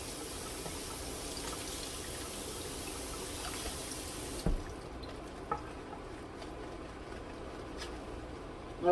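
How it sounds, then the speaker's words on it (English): Romaine lettuce rinsed under a running tap: a steady, close wash of flowing water that thins to a lighter trickle and splashing partway through, with a few small knocks. "I got my lettuce. I'm going to rinse it off."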